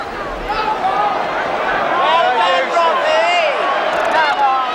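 Football crowd at a 1970s English league match voicing displeasure after a goal kick is ordered retaken, a sustained murmur and rumble of many voices at steady volume with scattered whistles and calls rising through it.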